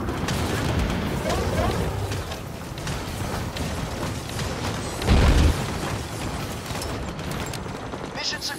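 Explosions and weapon fire against an enemy tower during a Devil's Tusk base pushback in the FireFall video game. A dense rumble of gunfire builds to one heavy, close blast midway, with voices heard through the battle.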